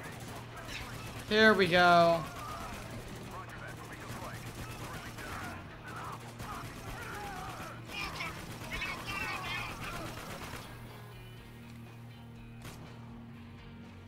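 Machine-gun fire in the video game Spec Ops: The Line comes as a short loud burst of rapid shots, followed by quieter in-game sounds, with people talking over it.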